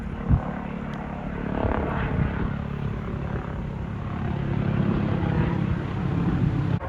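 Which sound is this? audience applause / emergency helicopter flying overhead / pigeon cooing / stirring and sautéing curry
emergency helicopter flying overhead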